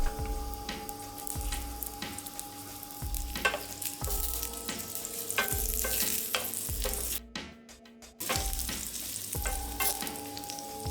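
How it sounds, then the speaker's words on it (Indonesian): Ginger sizzles and crackles in hot oil over low heat, a continuous frying hiss with occasional stirring clinks, a brief quieter dip near the end, no voices. "tumis jahe dengan api kecil untuk membuat minyak jahe"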